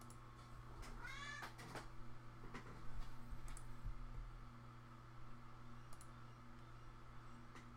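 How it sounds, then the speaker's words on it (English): A house cat meows a few times close by in a quiet indoor room, with a drawn-out wavering cry early on and fainter short calls later, plus light keyboard clicks and soft knocks. "Sorry if you hear him meowing."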